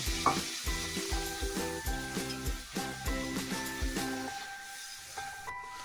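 Chicken sautéing in a pan with a little water, giving a steady sizzle and crackle with a regular pulsing rhythm of stirring strokes, close and clear.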